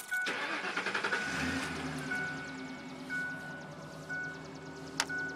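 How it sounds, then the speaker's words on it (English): Car engine cold start: a fast rhythmic cranking whir for about a second, then the engine catches and settles into a steady idle hum, heard close with no voices. "Here's a cold start video."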